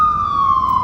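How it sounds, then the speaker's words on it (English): An ambulance siren sounds as a single steady, loud wailing tone that slowly drops in pitch, lasting under a second. "There's an ambulance for you guys too."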